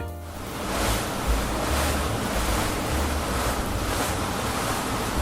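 Waves washing steadily against riverbank houses on an eroding shore, a loud, continuous surging wash with gusty wind noise and no voices.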